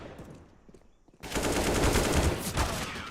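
In a professional Counter-Strike esports match, quiet game background suddenly gives way to loud, sustained automatic gunfire that rattles on without a break.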